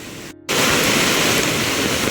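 Swollen Konkan village river in flood pours over a bridge with great force, a loud, close, continuous roar of rushing water after a brief dropout at the start.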